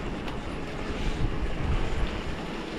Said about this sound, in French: le vent du sud, le vent qui pousse là